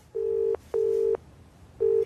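Touch-tone telephone keypad dialing a number: three steady beeps, each about half a second or less, with short gaps between them, clear and close against a quiet background.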